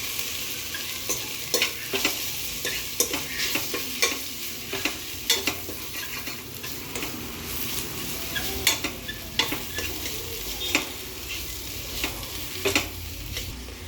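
Mutton masala being mixed into vegetables for veg biryani in a pan, a low sizzle under repeated sharp scrapes and taps of a spoon that come every second or so, close by and with no talk.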